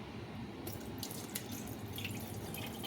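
Water from washing greens is poured out into a sink, a continuous splashing, gushing stream with dripping spatters, close and fairly loud, with no talking.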